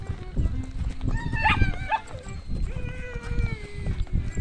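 A dog barks a few times at moderate distance amid rustling and background noise, with a voice briefly heard.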